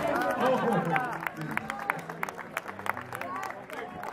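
Audience applauding at a live orchestra dance performance, a dense patter of clapping with cheering and crowd chatter mixed in, close and steady throughout.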